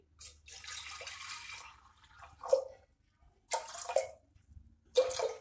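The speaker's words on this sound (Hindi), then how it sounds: "2 कप पानी डाल रही हूँ।" Two cups of water are poured into a pressure cooker on a gas stove, heard up close as several distinct splashing pours separated by short pauses.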